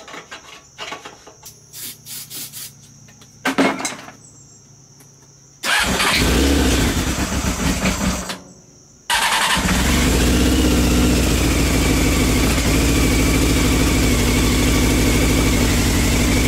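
The CBR 600 engine of a reverse trike cranks in bursts of starter whirring, then catches and settles into a loud, steady close idle after earlier rattling and rubbing sounds.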